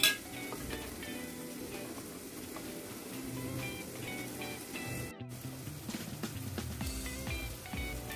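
Onion and tomato sautéing in a pan, a soft continuous sizzle with occasional stirring scrapes and clinks of utensils, quiet and close, with no talking.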